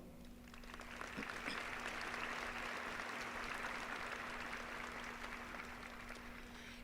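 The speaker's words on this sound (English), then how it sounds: "Please help us in welcoming our guests by way of applause." An audience at a Westover High School ceremony claps to welcome guests, a dense, even wash of applause swelling in after a moment and holding steady, somewhat distant and soft beneath a faint electrical hum.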